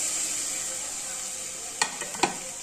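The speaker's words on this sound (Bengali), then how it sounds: "টমেটোটা দিয়ে ভালো করে নাড়িয়ে নেব" Tomato frying with ginger-garlic paste in a pan for a Bengali pointed gourd and prawn dish gives a loud, even hiss, then two quick spoon clinks as it is stirred.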